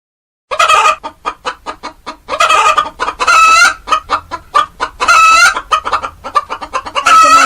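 Hens bought at a market cluck loudly and repeatedly up close, rapid staccato calls rising into longer squawking bursts, with no talk.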